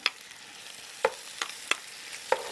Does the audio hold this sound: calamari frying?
yes